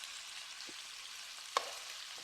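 Food sizzles softly and steadily in the bottom of a pan as it is spread out, a low hiss with one brief scrape or clink partway through.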